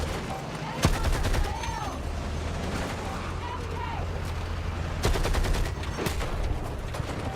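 Machine gun fire in the Battlefield 6 video game: dense bursts of rapid automatic shots, a sharp volley near the start and another around the five-second mark, over a constant rumble of battlefield noise and a low engine-like hum.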